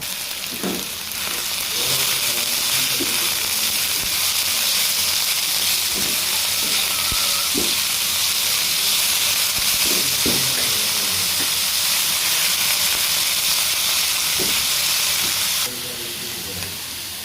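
Kalai greens (spinach-like leaves) frying in a hot pan, a loud steady sizzle and hiss with occasional stirring knocks, close.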